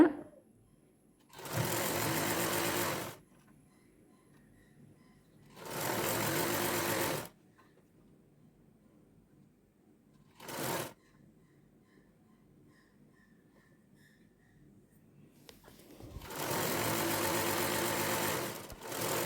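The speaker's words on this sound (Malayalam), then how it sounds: "പതുക്കെ പതുക്കെ സ്റ്റിച്ച് ചെയ്ത് കൊടുക്കുക" Sewing machine stitching a half petticoat, running in slow, separate bursts of steady mechanical whirring with quiet gaps between, including one very short run, heard close with no talking.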